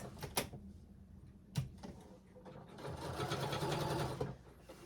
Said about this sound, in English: I'm just using a straight stitch, and I'm just going to probably go around a couple of times